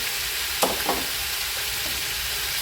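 Eel stir-fry with holy basil and herbs sizzling in a pan, a steady loud hiss with a couple of brief stirring scrapes near the start.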